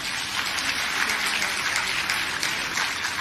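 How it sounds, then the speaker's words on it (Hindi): An audience at an indoor talk claps together, a thick, even wash of many hands that stays loud and steady for a few seconds. "चलिए हम आमची मुंबई के लिए एक जबरदस्त ताली बजाते हैं।"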